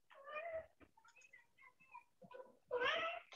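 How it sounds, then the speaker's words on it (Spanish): A cat meows repeatedly at close range, with a long drawn-out meow, a few shorter chirping calls and another loud meow at the end, against a quiet background. "Hay un gato."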